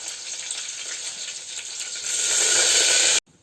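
Mustard seeds, cumin, chilli and curry leaves hit hot oil with a loud, steady sizzle and hiss. It swells even louder partway through, then cuts off abruptly.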